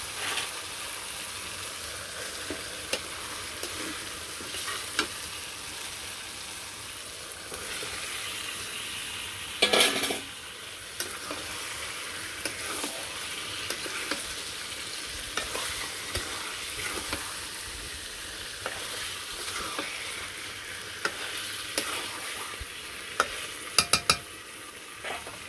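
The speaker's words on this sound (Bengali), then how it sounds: "মাংসটা ভালো করে কষিয়ে নিলাম" Chicken meat stir-fries with spice masala in a pan, a continuous soft sizzle under steady stirring, with occasional spoon scrapes and clinks against the pan throughout.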